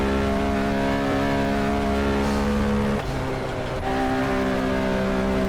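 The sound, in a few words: race car engine screaming at full speed in racing video game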